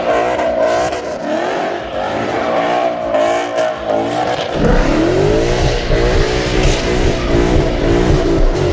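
A Ford Mustang GT doing donuts roars with a loud, close engine that revs up and down, its pitch rising and falling through the run, with tire squeal blending into a deep, sustained rumble.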